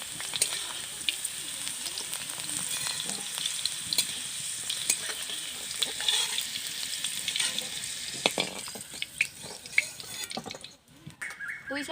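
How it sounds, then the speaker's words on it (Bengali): Malabar spinach (pui shak) fries in a little oil in a pan, giving a steady close hiss with scrapes from stirring that stays fairly even and then briefly thins out near the end. "পুঁই শাকটা আমি ভালো করে ভেজে নিয়েছি"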